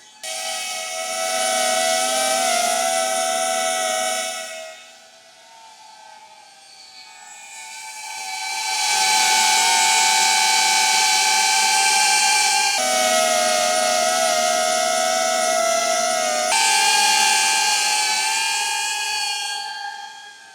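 Loud, steady propeller buzz with a high tonal whine from a DJI Avata 360 FPV drone, briefly dropping away before swelling back and holding at a constant roar.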